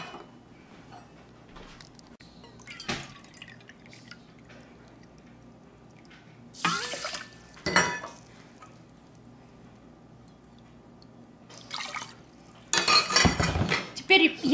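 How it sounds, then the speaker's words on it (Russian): Rice and water added to a kitchen pot for a sushi cake, with scattered clinks of cookware and utensils, a few bursts of pouring and rattling grains, and quiet stretches between. "И сюда нужно добавить 1 стакан риса и 1 стакан и 1/4 от стакана воды."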